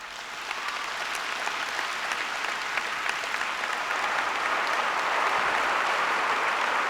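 A crowd at a 1996 Bill Clinton rally in Ypsilanti, Michigan breaks into sustained applause, a dense, even roar of clapping that swells slightly toward the end.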